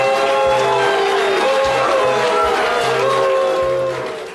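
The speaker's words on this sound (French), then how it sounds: "Vous entendez les huées puis les applaudissements" At a tense Rouyn-Noranda city council meeting over the smelter, a packed room erupts in loud, sustained booing and jeers that carry into clapping, the noise staying dense before tapering off near the end.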